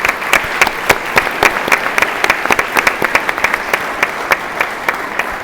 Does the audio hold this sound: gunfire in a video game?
no